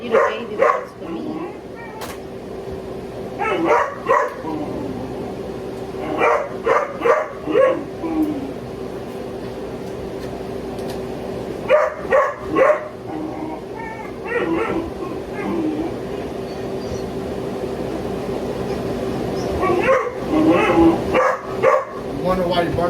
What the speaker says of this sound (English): Wonder why he barking so much